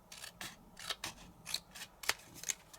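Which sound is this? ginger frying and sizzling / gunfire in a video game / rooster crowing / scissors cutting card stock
scissors cutting card stock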